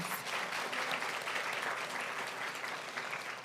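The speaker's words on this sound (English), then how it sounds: "Please give her a round of applause" Steady applause from an audience at an inaugural Women of Courage award ceremony, a dense wash of many hands clapping that keeps an even level throughout, with no one speaking over it.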